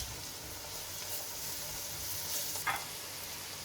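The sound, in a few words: dry masala spices roasting in a pan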